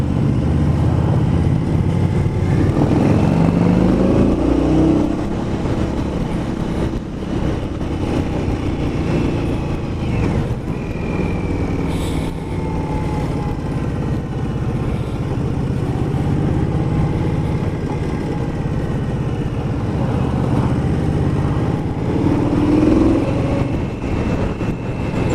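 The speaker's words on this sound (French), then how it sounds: "Dommage qu'il y ait autant de circulation" Dense road traffic passes continuously nearby, a loud steady rush of cars and engines with swells as vehicles go by, heard during a motorcycle test ride on an Indian Scout.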